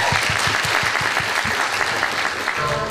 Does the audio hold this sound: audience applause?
yes